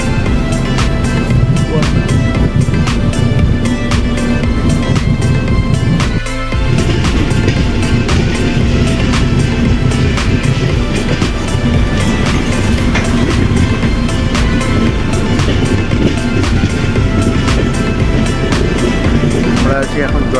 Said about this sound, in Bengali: আমাদের হাওড়া ডিব্রুগড় কামরূপ এক্সপ্রেস